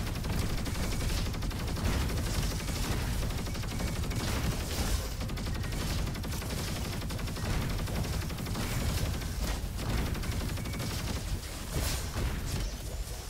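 Rapid, sustained submachine-gun fire from the Quasar SMG in the shooter game Roboquest, a dense continuous burst of shots with mechanical clatter running loud and unbroken throughout.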